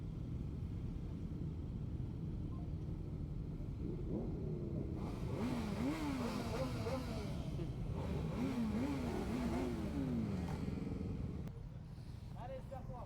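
Motorcycles rumble steadily as they ride out at the Lyon motorcycle show, with engines revving up and down in the middle stretch and voices in the crowd around them.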